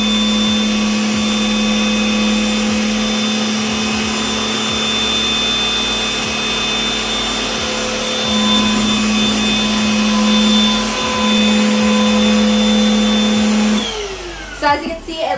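A cordless stick vacuum cleaner runs at medium speed over a hardwood floor, a steady high-pitched motor whine with airflow hiss that holds throughout, shifting slightly midway, then winding down with a few clunks at the end.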